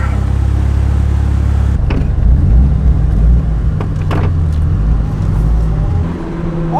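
Turbocharged Mitsubishi Eclipse build engine revving loudly, a steady high-pitched rev that drops at about two seconds into a rumbling idle with fluctuating throttle blips, heard close with no talk.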